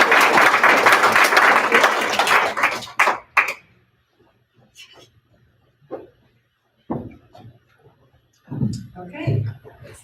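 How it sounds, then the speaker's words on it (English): Applause breaks out at a spelling bee once a round ends, loud and dense for about three seconds, then fades into scattered claps, knocks and brief voices. "So let's give a big round of applause."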